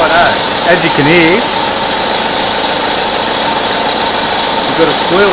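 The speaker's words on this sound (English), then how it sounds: "we've got a squealing belt" Fan belt squealing on an idling Nissan GU Patrol engine, a loud steady engine hum under short rising-and-falling squeal bursts near the start and again at the end.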